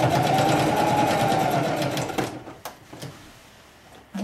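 A sewing machine bastes around the fabric edge of an art banner, running steadily and loudly for about two seconds before it stops, followed by a few soft clicks and handling noises in a quiet room.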